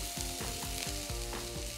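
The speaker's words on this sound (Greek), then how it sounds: "Πάμε να τηγανίσουμε μια κουταλιά κρεμμύδι ψιλοκομμένο." Finely chopped onion and a little garlic fry in sesame oil in a pan, giving a steady, loud sizzle with a few soft scraping stirs, and no talk.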